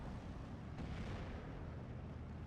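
A heavy IG-18 artillery shell strikes in the Steel Division war game, a loud sustained rumbling blast with dense broadband noise and a brief sharper burst near the start, no talk over it.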